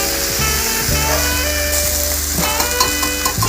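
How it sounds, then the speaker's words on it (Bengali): Ginger paste stirred through vegetables for shukto in a frying pan, loud close sizzling with rhythmic scraping strokes of the spatula against the pan. "এবার আদা বাটাটা দিয়ে ভালো করে ওপর নিচে নাড়াচাড়া করে দিচ্ছি"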